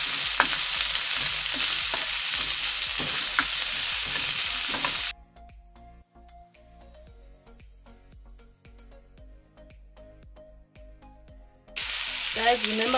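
Onions sautéing in a pan for Lyonnaise potatoes, a bright steady sizzle that drops out for several seconds to faint clinks and quiet background before returning loud near the end.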